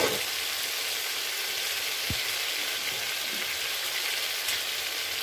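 Potatoes fry in oil with a spiced masala, giving a steady, dense sizzle throughout with one brief knock near the middle; no voices, close and fairly loud.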